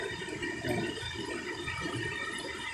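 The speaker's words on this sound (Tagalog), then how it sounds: "ito daw yung falls na to ay galing sa Mount Matutom" Water from Mount Matutum pours steadily down a small falls into a stream, a continuous broadband rushing that stays level and close throughout with no voices.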